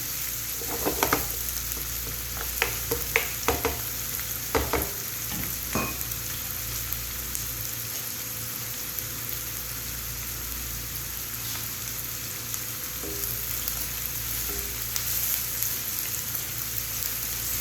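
Okra frying lightly in a pan for bhindi masala gives a steady, even sizzle throughout, with a few clustered clinks and scrapes of a utensil stirring early on and faint occasional taps later; no talking.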